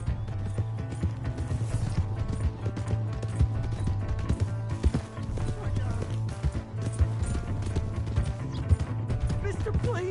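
Hooves of a horse clip-clop at a steady gallop in the Red Dead Redemption 2 video game, running continuously with a low droning bed beneath, while voices shout and talk over it.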